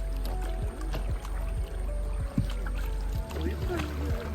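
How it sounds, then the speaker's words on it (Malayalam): Forest river water flows past a coracle on the Pamba river near Sabarimala: a steady close rush of water with small splashes and scattered knocks against the boat throughout. "ഇത് കാടുകളിൽ നിന്ന് ഉൾക്കാടുകളിൽ നിന്ന് ഒഴുകി വരുന്ന വെള്ളം."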